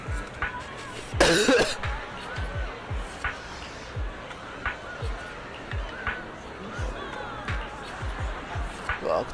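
A person coughs once, sharp and close, among background game chatter, with faint rhythmic thumps continuing throughout.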